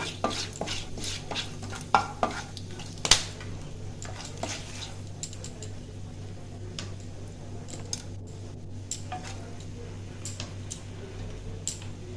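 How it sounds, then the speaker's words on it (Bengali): Whole cardamom pods, cloves and cinnamon sticks fry briefly in a pan for Basanti pulao, with a faint background sizzle broken by sharp ticks and clinks of spatula against metal, loudest near the start. "4টে এলাচ, 5-6টা লবঙ্গ। এটা একটু ভাজতে হবে যাতে গন্ধটা আসে।"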